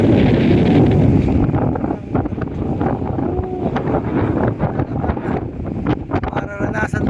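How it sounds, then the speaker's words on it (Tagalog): Strong wind buffeting a handheld phone microphone on Crystal Cove Island, Boracay, a steady loud rumbling roar broken by gusts, with waves and faint voices underneath. "Dito, medyo malakas ang hangin."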